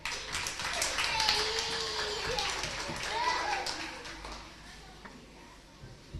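An audience at a 1995 live magic stage show bursts into applause that swells and then fades over several seconds, with children's voices and chatter mixed in.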